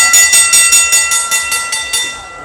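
Rhythmic clattering pulses, about ten in quick succession, ring with steady metallic tones as a train rolls by close up near an outdoor children's boxing event at a buffalo-racing festival in Chonburi, Thailand, slowing slightly toward the end.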